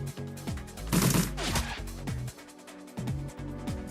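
Rapid video game gunfire, a run of close, loud shots in quick bursts with brief pauses, over a steady game soundtrack.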